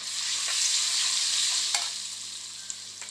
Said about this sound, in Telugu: మామిడికాయ తురుము వేసి ఈ విధంగా కలుపుకోవాలి